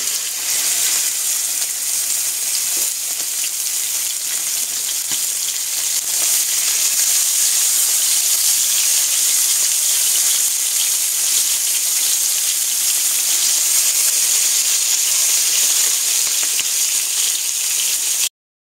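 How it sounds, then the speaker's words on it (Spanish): Tenderloin searing in a hot pan gives a loud, unbroken hiss of sizzling fat that holds evenly for the whole stretch, close up and with no voices over it. "sin quitarle el ojo al solomillo que se está sellando"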